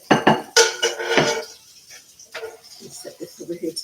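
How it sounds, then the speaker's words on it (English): A utensil scrapes cooked onions out of a skillet in a few quick, clattering metal strokes up close, then softer intermittent scraping continues while a person talks over it. "I'm trying to make sure I get all of the onions out of the skillet"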